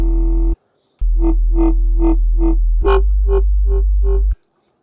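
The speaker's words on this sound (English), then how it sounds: "Add a bit of distortion, add a bit of sub." A gritty, distorted synth bass plays a pulsing pattern of repeated notes over a deep sustained sub tone, loud and close, with a brief gap near the start.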